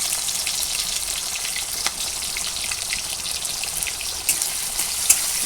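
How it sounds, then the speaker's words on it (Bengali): Chopped onions fry in hot oil in a wok, making a loud, continuous close-up sizzle with a few small pops. "তো আমি কড়াইতে দেখো তেল দিয়ে গরম করে নিয়েছি। এবার আমি পেঁয়াজ কুচিগুলো দিয়ে দিলাম"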